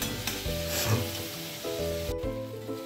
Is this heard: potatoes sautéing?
yes